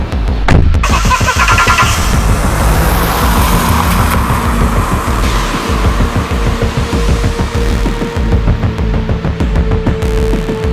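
A video-game taxi engine cranks with a quick stuttering starter burst, catches, and settles into a loud, close, rough idle that chugs steadily to the end.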